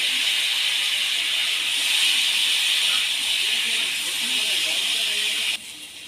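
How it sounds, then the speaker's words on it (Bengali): Teasel gourd and potato pieces fry in hot mustard oil in a pan, producing a steady, even sizzling hiss that drops abruptly in level near the end. "এবার ওই তেলের মধ্যে কাঁকরোল আর আলুগুলো ভেজে নেব।"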